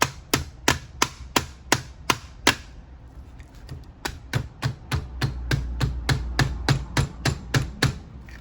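A small hammer taps a replacement Mercedes door handle into place, a steady run of sharp, close metallic knocks about every third of a second with a short pause midway, alone without talk.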